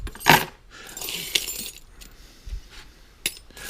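A handful of antique skeleton keys jangling as they are tossed into a container, sharp metallic clinks and rattles in short bursts, close and fairly loud, with no talk.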